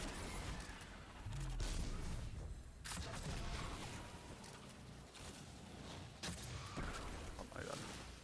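Gunfire from an Arc Titan build in the shooter Destiny 2 makes a steady, busy stream of blasts and impacts, with a few sharper cracks standing out. The shooting carries on throughout.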